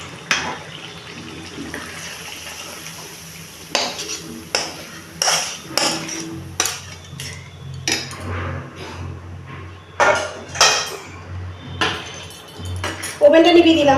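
Chicken kosha with coriander leaves and chopped chilli being stirred and poured into another pot in a home kitchen, with irregular clanks and scrapes of spoon and metal cookware, close and moderately loud, over a low background hum.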